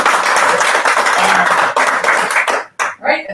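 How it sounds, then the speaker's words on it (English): An audience at a data infrastructure meetup in Amsterdam gives a loud, dense round of applause that cuts off abruptly near the end. "I think he deserves one more round of applause for keeping the mask on."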